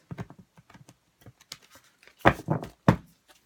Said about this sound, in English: I'm just shuffling them